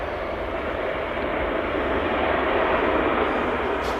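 An Aer Lingus A321neo airliner at Manchester Airport, its engines giving a loud, steady, unbroken roar that swells slightly toward the end.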